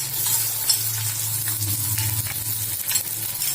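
Chopped onions and garlic fry in hot oil for vegetable fried rice, a steady close sizzle with faint stirring scrapes and a low hum beneath, no voices.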